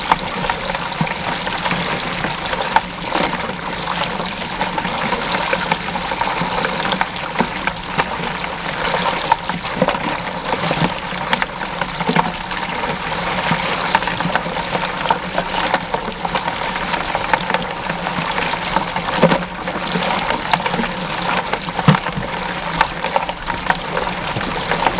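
A low-cost gold cube bucket trommel runs beach sand and water for gold mining, giving a steady loud rushing, gushing wash with a constant mechanical hum, continuous and close throughout.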